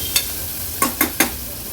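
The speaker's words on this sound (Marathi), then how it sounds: "कांदा आता आपण थोडासा शिजवून घेऊया।" Onion with ginger and garlic sautéing in oil for mutton paya soup: a few sharp stirring scrapes over a steady sizzle, close and fairly loud, with no talk.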